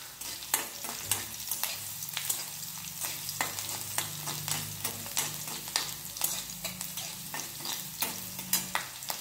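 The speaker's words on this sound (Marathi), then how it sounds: "मिरची आपली छान परतली गेली आहे" Green chilies sizzle in hot oil while being sautéed for a ghol leaf curry, a steady close frying hiss punctuated by regular scraping stirs of a spatula against the pan.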